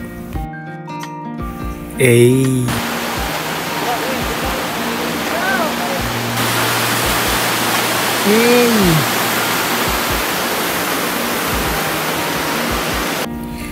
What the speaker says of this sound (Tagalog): Grabe, very refreshing ang lagaslas ng alon mula sa ilog.